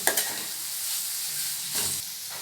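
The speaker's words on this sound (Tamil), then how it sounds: "மசாலாவோட பச்சை வாசனை போகிற வரைக்கும் அப்படியே எண்ணெயிலே வதங்கி வரட்டும்" Masala with ginger-garlic paste and cumin sizzles in hot oil close by, with bursts of stirring and scraping over a steady frying hiss.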